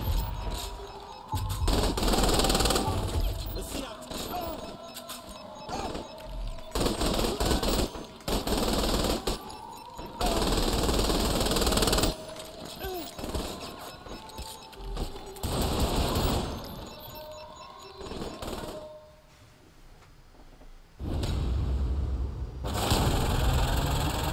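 Gunfire in Saints Row The Third Remastered: long, loud bursts of automatic fire repeat with short gaps between them, close and sustained, along with some engine-like rumble and no talking.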